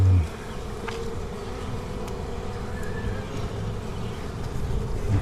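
A constant, close drone of many bees buzzing together at a large nest in a cavity under a bath, a dense low hum that holds steady throughout.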